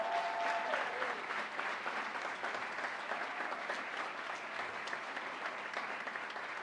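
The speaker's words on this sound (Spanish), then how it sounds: "Un aplauso a estos jóvenes y a este maestro." An audience applauds after a youth intermediate orchestra concert at a Costa Rican university, a dense, steady wash of clapping that holds throughout and fades slightly near the end.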